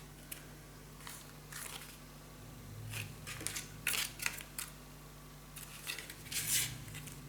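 Scissors snip through folded paper for a scrapbook mini album, a series of faint, close, crisp cuts and rustles in a quiet room.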